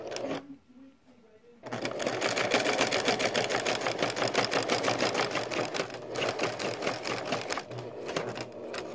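Sewing machine threaded with gray thread stitching the casing of a fabric mask, a fast rapid ticking chatter that starts after a short quiet pause and runs steadily to the end with brief slowdowns.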